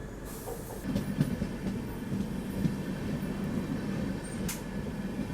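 The Howrah Rajdhani Express rolls through dense fog in a steady, droning rumble heard from inside a coach, with a faint metallic wheel hiss and a soft clack partway through.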